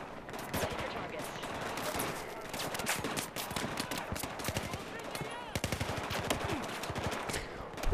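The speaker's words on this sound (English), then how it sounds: "Why do all the enemies seem to have automatic weapons" Automatic weapons fire in the Battlefield 4 video game, sustained rapid bursts of gunshots from several guns, near and fairly loud, with a voice talking over the shooting.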